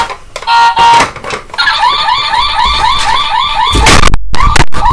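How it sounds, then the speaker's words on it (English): A Ford F-150's warbling electronic car alarm siren cycles rapidly and loudly, interrupted near the end by abrupt bursts of noise and a brief cutoff. "I'll get rid of the alarm."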